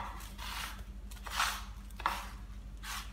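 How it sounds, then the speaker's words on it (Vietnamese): Bran and egg being stirred together by hand as bird feed, giving soft scraping, chopping-like strokes in a few bursts against a steady low background hum. "Trộn đều lên"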